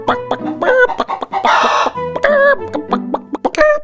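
A chicken clucks in quick, close bursts of short notes broken by small pauses, and one longer raspy squawk sounds in the middle.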